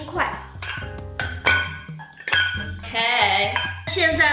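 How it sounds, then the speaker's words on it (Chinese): Ice cubes drop into a glass holding Ardbeg peated whisky for an Old Fashioned cocktail, giving a string of close, bright clinks and knocks while a person talks over them. "最后呢往里面加入冰块"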